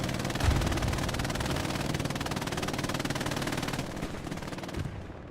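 Sustained machine gun fire in the Hell Let Loose video game, a dense, loud, continuous rapid rattle that holds steady for several seconds before cutting off near the end, with no talk over it.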